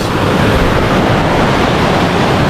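Hagdan-Hagdan Falls waterfall in Mauban, Quezon, a loud, dense, continuous rushing roar of falling water filling the whole scene, steady and close with no voices.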